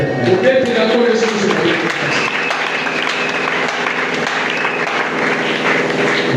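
Church congregation applauding at a Friday worship service, dense sustained clapping mixed with voices and some sung or called tones, loud and steady for about six seconds.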